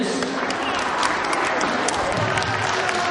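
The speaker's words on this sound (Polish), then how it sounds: "brawa dla numerka 5." Crowd applause at a children's beauty pageant final (Little Miss and Little Mister 2009) for a contestant, steady clapping and crowd noise throughout the short moment.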